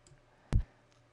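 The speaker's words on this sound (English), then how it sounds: "I just left click and dragged." A single crisp left click of a computer mouse during Photoshop editing, close and isolated against near silence.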